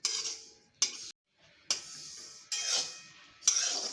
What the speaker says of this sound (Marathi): तीळ आपल्याला भाजून घ्यायचे।